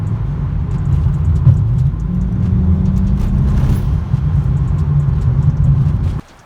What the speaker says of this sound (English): I'm getting a misfire in cylinder 3 under acceleration